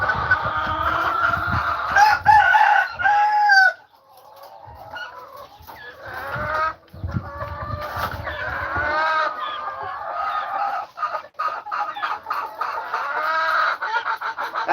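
Chickens cluck and squawk continuously and loudly at close range on a farm, with a rooster crowing among them and birds being handled.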